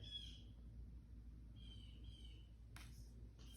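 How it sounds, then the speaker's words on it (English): Faint chirping calls from a couple of birds alternate back and forth over a low, steady background hum, quiet and somewhat distant. "you guys hear the birds in the background"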